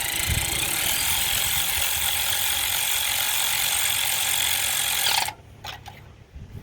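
Electric ratchet spinning a spark plug out of a 2005 Hyundai Accent engine, a loud, steady whirring ratchet buzz for about five seconds that stops abruptly, followed by faint clicks.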